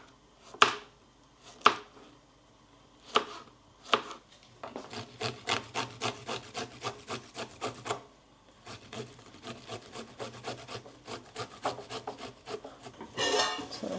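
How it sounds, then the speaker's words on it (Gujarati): Green chillies being finely chopped with a knife on a wooden board: a few separate knocks at first, then a steady run of quick, close tapping strokes, with no voice over it. "2 મરચાં ધોઈ અને ઝીણા ઝીણા કાપવાના છે"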